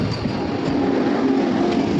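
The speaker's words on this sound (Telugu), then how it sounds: "దగ్గరికి వచ్చేసాం సికింద్రాబాద్ వందే భారత్ ఎక్స్ప్రెస్ ట్రైన్" A Secunderabad Vande Bharat Express train passes close by as a loud, steady rush of rolling rail noise that fills the whole moment without a break.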